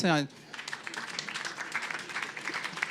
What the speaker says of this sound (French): En tout cas, on peut l'applaudir.